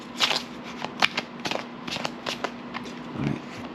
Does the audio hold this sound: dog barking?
no